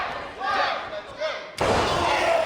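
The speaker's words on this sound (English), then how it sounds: "Drives home the elbow drop." A wrestler drives an elbow drop onto an opponent in a Limitless Wrestling match, one sharp loud slam on the ring mat near the end, preceded by crowd noise and a commentator's voice.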